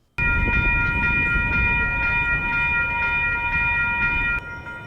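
An Edmonton Metroline light rail train passes loud and close, with a steady rumbling roar and a sustained bright tonal whine that cut off abruptly near the end.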